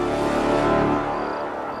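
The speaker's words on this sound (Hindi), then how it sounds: "आशिका निकल पड़ी है सुनसान राहों पर नशे की हालत में गाड़ी चलाते हुए" Car driven along a deserted road, a steady close engine drone with a smooth rushing hum that eases off slightly toward the end, with no voices.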